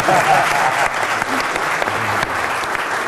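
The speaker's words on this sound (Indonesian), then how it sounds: "Tepuk tangan buat rakyat." Loud, sustained applause from a crowd fills the space, with a voice faintly audible underneath the clapping.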